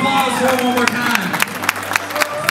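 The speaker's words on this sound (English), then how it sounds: "Ladies and gentlemen, round of applause for one more time." Wedding guests at an outdoor arboretum reception give a round of rhythmic, fairly even claps beneath a talking voice and sustained tones.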